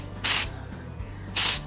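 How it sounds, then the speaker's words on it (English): Two short, loud hissing bursts of an aerosol spray paint can sprayed onto Oreo cookies, each lasting about a quarter second, separated by a pause of quiet. "now I'm gonna spray them"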